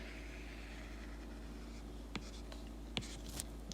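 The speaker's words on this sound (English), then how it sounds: "Sketch it, connect it the best you can." A parabola graph is sketched by hand in a quiet room, faint scratching pen or pencil strokes over a low steady hum, with a few sharper taps and clicks toward the end.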